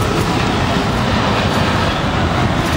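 Train riding on rails in Portland heard from aboard, a loud continuous rumbling roar of wheels and car noise with no distinct breaks.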